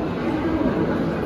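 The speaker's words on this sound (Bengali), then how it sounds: "হাওড়া স্টেশনে ঢুকছে ট্রেন, 19 নম্বর প্ল্যাটফর্মে।" The Howrah-Chakradharpur Express, train 18011, rolls into platform 19 at Howrah station with a steady, loud low rumble and a thin high whine above it.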